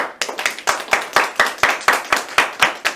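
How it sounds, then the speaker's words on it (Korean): Hands clap for an online accounting seminar held by a KOSDAQ association in 2020, about a dozen sharp, evenly spaced claps in a steady close rhythm, with no talking. "제가 코로나19 위기 상황에서 서로 격려하는 의미로 큰 박수 좀 부탁드리겠습니다."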